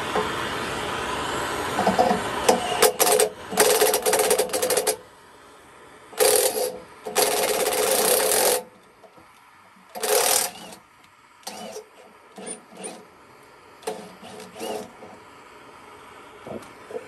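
Nut being spun off a threaded part on a 1964 Ford F-100 during a Crown Vic electric rack and pinion swap, with some mess on the threads; bursts of metallic ratcheting and rattling come in uneven spurts separated by short pauses, with no talk.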